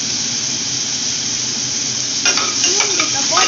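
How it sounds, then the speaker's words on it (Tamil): Garlic cloves sizzling in a pan of hot oil for a brinji rice dish: a steady frying hiss that is joined near the end by a few stirring scrapes and clatters. "பூண்டு இப்போ போட்டாச்சு. ஃப்ரை பண்ணணும்."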